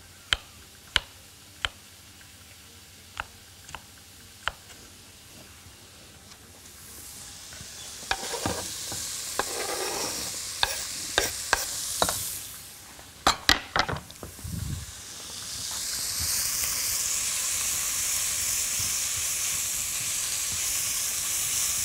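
Food frying in a pan is stirred, sharp spoon taps and scrapes spaced out at first, then busier stirring, ending in a loud steady sizzle.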